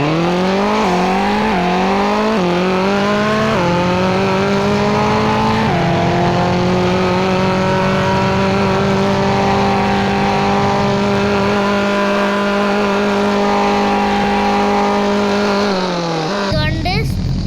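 A BMW car accelerates hard toward its top speed, the engine note climbing through several quick gear changes, then holding a long, high, steady drone before cutting off abruptly near the end.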